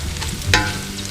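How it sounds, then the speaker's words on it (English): Soup ingredients for a rockfish soup fry in a pan with a steady close sizzle, broken by one sharp scrape of a stirring utensil midway. "I'll just stir it for a few more minutes"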